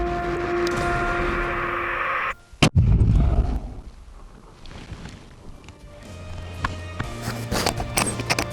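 A single rifle shot fired at a moose 700 yards away during a hunt in Newfoundland, one sharp loud crack followed by a rolling decay, set in outdoor wind and rumble.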